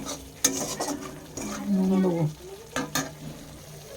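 Cumin powder, chilli powder and other spices stirred in a frying pan, the sizzle cut by sharp scrapes and clinks of the utensil against the pan, close and uneven, with no talking.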